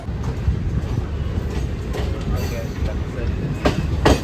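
A MEMU express train running from Chennai to Tirupati switches tracks just past Villivakkam, giving a steady close rumble and rattle of the carriages with a few sharper clacks near the end and faint voices in the background.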